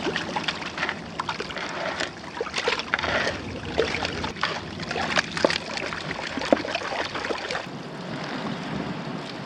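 Dirt being washed in shallow water while gold panning on a beach, with continuous sloshing, trickling and gritty swirling close by, irregular splashes over a low wind background.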